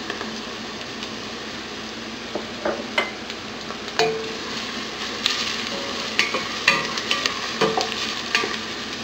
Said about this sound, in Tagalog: Then pagkalagay pa lang natin ng garlic, papabayaan na natin itong maluto for a few seconds.